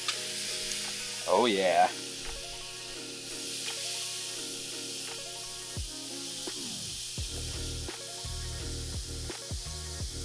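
Pork steaks sizzle on a Monument Denali grill, a steady moderate hiss of frying meat with occasional clanks and scrapes from handling, while a person briefly speaks.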